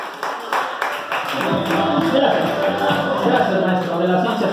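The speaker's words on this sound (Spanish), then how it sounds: "Fuerte los aplausos para las chicas." Audience applause for the girls at an adult birthday or bachelorette party with clowns, a crowd clapping steadily and fairly close, partly under a voice and background music.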